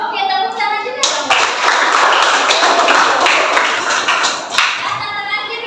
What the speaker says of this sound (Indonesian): Oke, tepuk tangan juga dong.